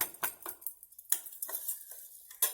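Coarsely ground mung beans tipped into a metal cooking pot, giving a few scattered clinks and rattling patters close by, with short bursts spread across a quiet background.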